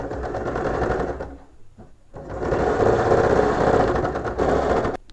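Sewing machine stitching a cotton petticoat, loud close rapid mechanical clatter in two runs separated by a brief pause, ending with a sharp click.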